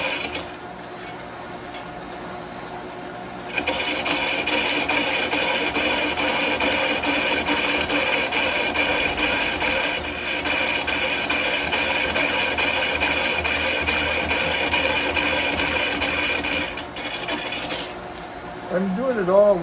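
A Shopsmith lathe with a speed reducer spins an out-of-balance piece of wood while a carbide tool scrapes it. The scraping is a continuous rasping that starts after a quieter hum and then tapers off.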